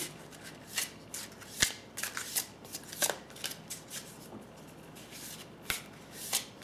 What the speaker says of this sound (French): on va tirer une carte de murmure de guérison.